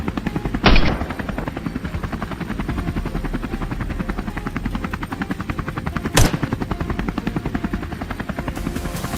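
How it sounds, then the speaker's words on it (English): Helicopters thunder with a steady, rapid rotor chop that fills the scene, loud and close, with two sharp bangs cutting through near the start and again after a few seconds. "The helicopters roared into the sky, shattering the usual calm."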